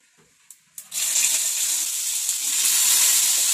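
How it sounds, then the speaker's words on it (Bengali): Pointed gourd (potol) dropped into hot refined oil bursts into a loud, continuous close sizzle after a few light clicks and taps, holding steady to the end. "পটলটা আমি সর্ষে তেলে ভাজবো না, রিফাইন তেলে ভাজবো"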